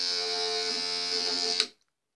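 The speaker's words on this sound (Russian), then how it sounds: "Я очень мечтала о электрической зубной щетке, а еще о розовой." A pink electric toothbrush buzzes with a steady, close, loud hum, then cuts off abruptly into silence.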